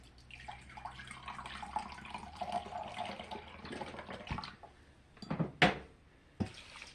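Liquid is poured into a cooking pot holding rice for broccoli chicken rice, giving a soft, steady splashing wash. Near the end come a few sharp metallic clanks of the pot and utensils, close and fairly quiet.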